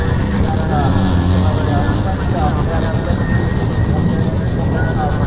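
Rotary-engined race cars howl and drone continuously with a dense, buzzing roar, echoing across the open Phillip Island circuit, while someone talks over the noise.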